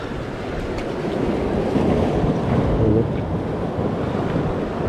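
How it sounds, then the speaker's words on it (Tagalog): Big waves at sea churn and roll around a small boat during an island harvest trip, a loud continuous rushing wash with wind buffeting the microphone and a swell building in the middle. "Malalaki ang alon, baka ma-wash out mga buddy."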